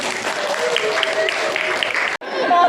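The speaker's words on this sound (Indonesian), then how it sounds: "Sudah kita berikan tepuk tangan." A group applauds at an Indonesian school or training event, a dense, steady wash of clapping that cuts off abruptly near the end and then resumes.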